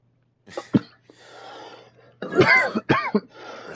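Harsh coughing fits from smoking, a few sharp hacking bursts, then a longer, rougher cluster of coughs with throat rasp, close and loud against near silence.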